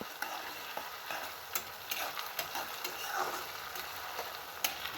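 Onions soften as they sauté in a pan before prawn and new potato curry, with a soft continuous sizzle broken by frequent light scraping and stirring clicks.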